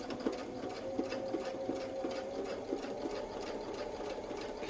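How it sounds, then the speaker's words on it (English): A sewing machine stitches the feathers of a circle wreath quilt pattern, its needle running in a steady, close mechanical patter with a faint rhythmic thump, alone without talk. "Continue sewing the outer feather"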